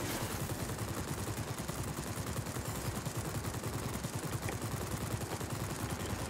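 Rapid, continuous machine-gun fire from a Blackburn Skua aircraft in the World of Warplanes flight game, a dense steady rattle that runs unbroken and alone at moderate level.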